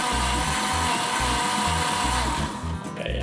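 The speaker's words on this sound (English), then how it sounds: "Powerful blender. Full power." A Kenwood blender runs at full power grinding cashews, a loud continuous whir with a rhythmic thumping pulse that eases off near the end.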